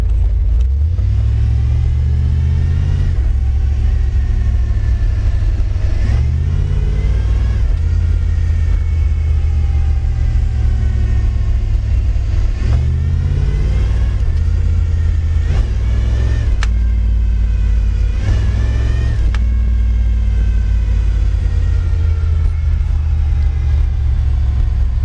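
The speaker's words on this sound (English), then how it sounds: "the noise is definitely evident in first gear" A 1964 Dodge Custom 880's A727 pushbutton automatic transmission held in first gear, its deep, steady drivetrain rumble swelling repeatedly as the engine revs and eases, continuous and close throughout with no talking.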